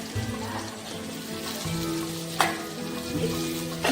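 Masala okra (bhindi) frying on a tawa under a lid, a steady close sizzle with a low hum beneath and a sharp clatter midway, no talking.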